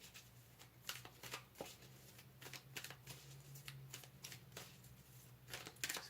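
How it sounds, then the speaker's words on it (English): Tarot cards shuffled and pulled for a pick-a-card reading, a steady run of quiet papery riffles and flicks at close range with a low hum underneath and no talking. "Let's go ahead here and pull some more cards for you"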